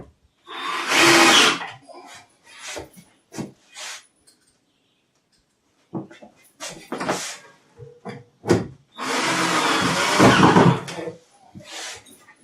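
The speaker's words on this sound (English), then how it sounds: "I'm just using pocket hole screws to screw this together." A power drill driving pocket hole screws into a wooden armoire, several bursts of whirring, some short and two longer sustained runs, separated by silences and clunks of handling, close up.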